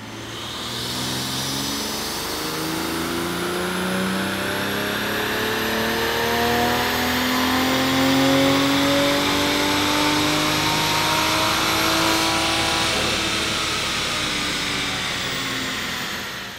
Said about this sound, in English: you can really hear that turbocharger sing now